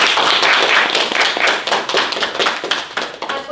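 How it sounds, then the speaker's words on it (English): Audience applause for a panel of judges at an AI hackathon finale, a dense steady clapping that fills the whole stretch with individual hand claps standing out. "Please join me in giving a round of applause to our distinguished panel of judges."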